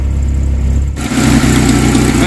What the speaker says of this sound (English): we got to run an engine